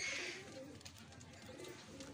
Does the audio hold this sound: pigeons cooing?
yes